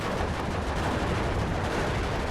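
Bombing run explosions in the Steel Division 2 multiplayer battle game, a dense continuous rumble of blasts and gunfire with steady loudness and no distinct individual hits.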